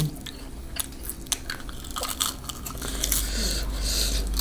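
Crisp fried snack biting and crunching close up, a series of sharp crackling bites over several seconds, eaten alongside a yellow egg noodle soup with grilled chilies; no talking.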